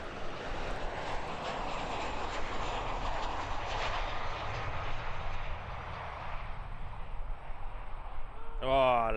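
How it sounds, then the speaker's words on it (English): A Qantas Boeing 737-800 arriving from Queenstown and landing at Christchurch Airport, New Zealand, a broad steady jet roar heard from a distance, with a brief sharp noise at the very end. "Qantas 737 coming in from Queenstown."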